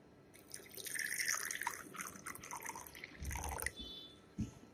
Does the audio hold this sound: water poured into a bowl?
yes